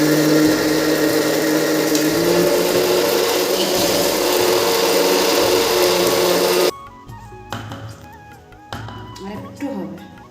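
A kitchen mixer grinder runs loud and steady, whirring through a spice paste of ginger and green chili, then cuts off abruptly partway, leaving quieter household sounds behind.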